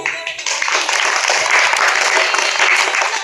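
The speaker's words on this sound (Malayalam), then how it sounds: "നല്ലൊരു കൈയടി നിങ്ങൾക്ക് എല്ലാവർക്കും വേണ്ടിയിട്ട്" A puppet show audience clapping together in a dense, steady round of applause that builds quickly and holds loud and close throughout, with no talking.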